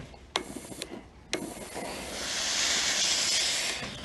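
A steam iron pressed onto a fabric collar while sewing: a few sharp clunks and taps of the iron, then a long steady hiss of steam swelling and fading, close and fairly loud with no talking.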